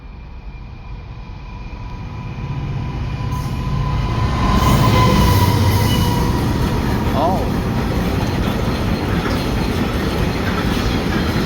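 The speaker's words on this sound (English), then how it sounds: "Yeah, it's a freight train." A freight train rolls past a level crossing on Noose Lane, its loud rumble and rhythmic clatter of wheels building over the first seconds and staying steady and close to the end, with a brief spoken word early on.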